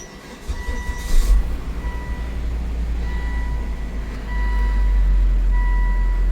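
A Volvo XC70 engine idles with a low, steady rumble that grows slightly louder partway through, with a faint repeating electronic chime above it.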